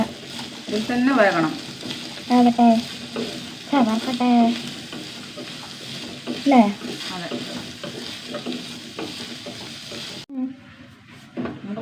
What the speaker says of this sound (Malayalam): വഴറ്റി വഴറ്റി വഴറ്റി വഴറ്റി വറുത്തെടുക്കുക